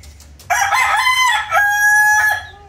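A rooster crows loudly and close by, one long drawn-out call rising and then holding steady, with no one talking.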